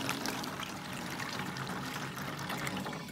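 Hot water pours steadily from a spout into a jug for an off-grid shower, a continuous close trickling and splashing stream with no talk over it.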